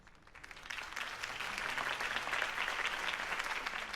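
Crowd applause rises and holds steady after a campaign speech for Harvey Dent in Batman Telltale, a dense wash of clapping that fills the scene.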